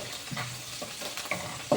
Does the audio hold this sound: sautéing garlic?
yes